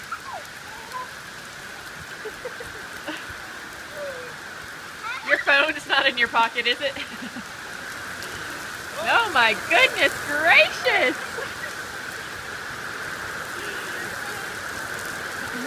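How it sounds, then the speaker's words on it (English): Steady rain falling outdoors on a June day, a continuous hiss of drops on surfaces throughout, with an adult voice calling out excitedly over it in two bursts. "You're in the rain!"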